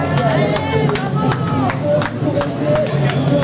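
Scattered clapping and crowd noise at a public sector workers' street march in the Landes, close by, with individual claps standing out over a busy babble of voices.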